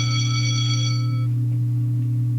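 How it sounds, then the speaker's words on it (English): A school bell in a Doki Doki Literature Club mod rings as a bright tone that fades after about a second, laid over a steady low hum that carries on. "The ringing of the school bell shocks me out of my thought process."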